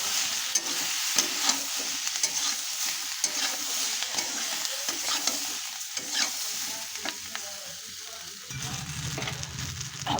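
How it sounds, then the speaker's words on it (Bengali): Turmeric and spices being stirred and fried in a pan while a Bengali fish curry is cooked, giving a steady sizzle with scraping stir strokes throughout and a brief change in texture near the end. "হলুদ দিয়ে ভালো করে নেড়ে নেব।"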